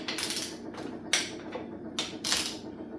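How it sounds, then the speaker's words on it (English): Torque wrench ratcheting while bolts are tightened on a Ford Twin Cam engine during a rebuild, a few short bursts of metallic clicking separated by pauses, close and fairly loud, no talk. "We're going to switch over the torque wrench"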